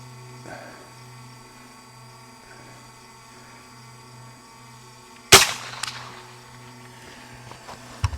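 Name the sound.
Henry Homesteader 9mm rifle gunshots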